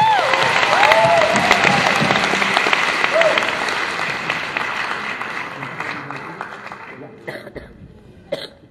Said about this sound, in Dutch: Dus graag voor haar een applaus.